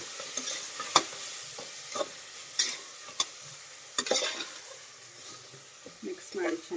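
Three lengthwise-cut tomatoes frying with onions in a pan for tomato biryani, stirred with irregular scraping clacks over a soft close sizzle, with speech in the background.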